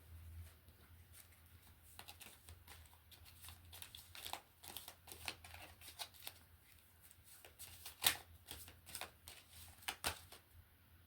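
A deck of cards shuffled by hand, close and quiet, with repeated rapid riffling bursts and flicks in an uneven rhythm, one sharper snap near the end.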